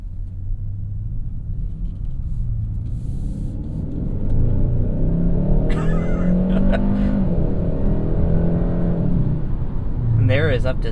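A 2021 Hyundai Sonata N-Line accelerates hard to 60 mph, heard from inside the cabin as a steady engine rumble that swells and climbs through the run, with a person talking over it.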